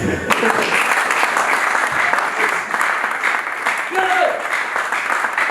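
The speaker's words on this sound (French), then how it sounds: "Est-ce que tu peux acclamer Élisée?" A church congregation applauding in a dense, steady burst of clapping that fills the room, loud and close, with voices mixed in under it.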